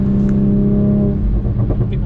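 A Toyota Supra's engine roars low and heavy during hard acceleration pulls on a highway in Mexico, a strong sustained drone, with voices talking over it.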